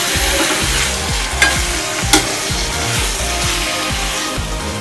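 Ground masala and mutton keema stirred together in a hot pan, a steady close sizzle broken by repeated rhythmic scraping strokes and a couple of sharp clinks of the utensil.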